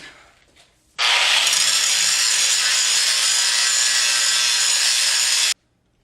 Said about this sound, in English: I ground off all the scale on this, real roughly, just with the angle grinder